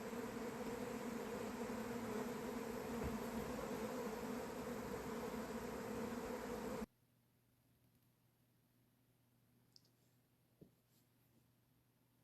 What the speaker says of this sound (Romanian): Albinele mele au luat-o razna.